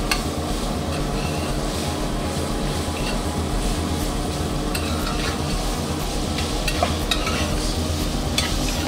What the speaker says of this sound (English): we're just trying to sweat our onions